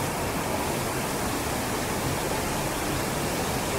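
A waterfall in the Ecuadorian jungle roars as a loud, even, unbroken hiss of falling water that fills the whole stretch, with no voices.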